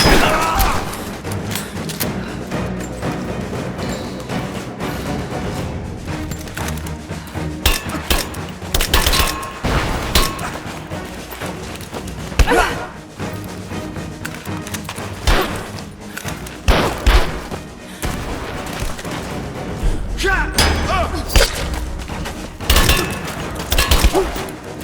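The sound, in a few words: gunfire in the video game Rise of the Tomb Raider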